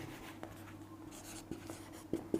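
Chalk or marker scratches across a classroom board during a class 6 maths lesson on sets, a few short strokes and taps at close range over a steady electrical hum, with no talking.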